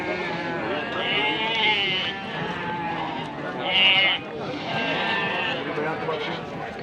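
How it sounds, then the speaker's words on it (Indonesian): Sheep bleat repeatedly amid a busy livestock market for breeding ewes in Singaparna, Tasikmalaya, overlapping calls rising loud near the middle, with crowd chatter throughout. "Di depan saya ada domba indukan ya."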